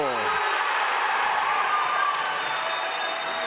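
Crowd in a high school basketball gym roars and cheers continuously at a close game between Girard and Riverton, a dense steady wash of voices and applause, with a commentator talking over it.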